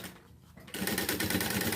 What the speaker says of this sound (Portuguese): Vou abraçar essa parte justinho e faço uma costura